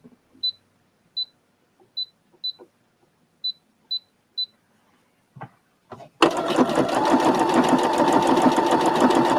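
A domestic sewing machine running a stitch with a backwards motion: a few short whirring bursts with sharp beeps, then a loud, steady mechanical hum of continuous stitching up close.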